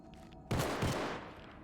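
A short burst of gunfire in Fallout: Tale of Two Wastelands, a loud rapid volley lasting about half a second over a low game ambience, with no talking.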